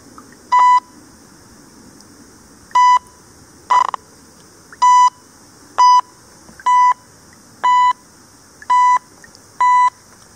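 An XP Deus metal detector's electronic tone beeps again and again during water hunting, a strong signal reading 95 VDI: about nine short, identical, loud pulses at a fairly steady pace with quiet gaps between.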